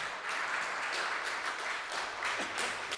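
Soft, steady applause from an audience at a talk on the Italian armed forces, honoring lieutenant colonel Mario Renna, a quiet even patter of many hands heard from a distance.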